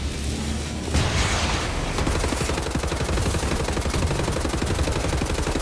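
Rapid, sustained automatic gunfire from a shooter set in Wolfenstein: The New Order, a dense, loud stream of shots starting after a brief lull and running without pause to the end.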